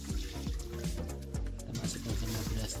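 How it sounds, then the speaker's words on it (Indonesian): Raw rice being poured into the steamer pot of a low-carb smart cooker, a continuous granular rushing pour with a few dull thumps, close and fairly loud. "berasnya lalu kita tuang ke panci streamernya"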